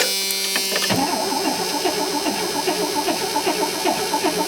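Carbureted V6 truck engine cold starting in 5-degree freezing weather: a brief cranking whir before catching about a second in, then settling into a loud, rough, pulsing idle close by.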